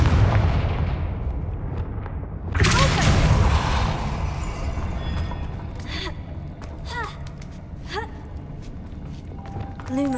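Confringo spells blast in Hogwarts Legacy, a sudden loud burst of fiery explosion followed by crackling debris and several short whooshing magical effects scattered through the rest of the clip.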